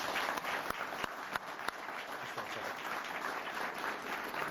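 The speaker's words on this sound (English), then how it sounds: "Please join me in giving her a round of applause." A crowd at a press conference applauds steadily, broad clapping noise filling the space with a few sharper individual claps standing out.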